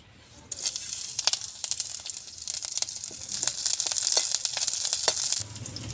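Green chillies dropped into a spoonful of hot oil in a pan burst into a loud, crackling sizzle that holds steady for several seconds and then cuts off abruptly, close and without speech.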